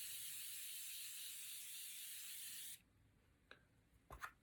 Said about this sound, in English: I am going to take my continuous setting spray.